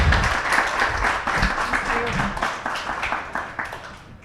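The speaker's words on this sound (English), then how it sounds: "Round of applause for Hats and Ladders." An audience at a startup demo day pitch contest gives a round of applause for a team, a dense clatter of clapping that gradually thins and tapers off over about four seconds, with some talking mixed in.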